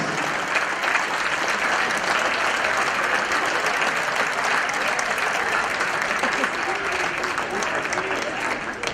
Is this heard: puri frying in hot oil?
no